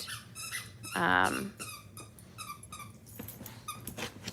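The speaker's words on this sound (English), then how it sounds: "she's an Australian cattle dog, also known as a blue heeler" An Australian cattle dog (blue heeler) gives a drawn-out high whimper, then several shorter squeaky whines and yips, fairly close and quiet.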